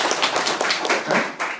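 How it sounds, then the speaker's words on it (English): Audience at a street photography lecture breaking into applause, a short burst of dense, close clapping that fades near the end. "Give them a round of applause"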